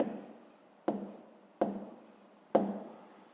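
Pen writing a maths solution in a notebook, four separate scratchy strokes each starting sharply and fading, close and quiet.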